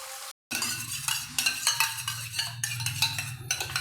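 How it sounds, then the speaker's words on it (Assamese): A paratha fries in oil in a pan, giving a close, steady sizzling hiss broken by clinks and scrapes of a utensil against the pan. "তেল দি দিয়াৰ পিছত আমি এইটো আমাৰ সেকেন্ড পৰঠাটো দি দিছোঁ ইয়াত"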